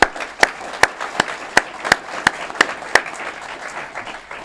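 Audience at a city development announcement in Aurora clapping in a brief, fairly sparse burst of sharp, evenly spaced claps that thin out after about three seconds.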